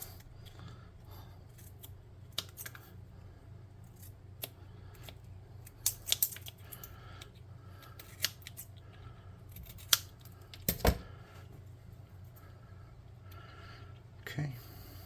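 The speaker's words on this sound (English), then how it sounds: "Now I will snip off the back." Scissors snip off the back of a hobby model piece for a futuristic mechanical dragon miniature, giving several sharp, separate clicks spread over a steady low hum, with no talking.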